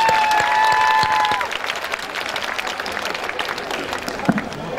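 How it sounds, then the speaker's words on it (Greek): A crowd applauds the Orfeas association at an outdoor summer festival in Didymoteicho, a sustained loud wash of clapping that eases slightly toward the end, with some voices mixed in. "ας το χειροκροτήσουμε"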